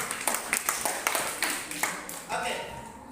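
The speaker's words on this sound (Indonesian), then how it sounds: "tepuk tangan untuk Rizky" Classmates in a school lesson give a short round of applause for a student, with scattered individual claps that thin out after a couple of seconds, followed by a voice speaking.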